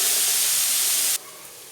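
Vegetables sauté in a hot pan for egg pasta, giving a loud steady hiss that drops off sharply to a quieter sizzle partway through.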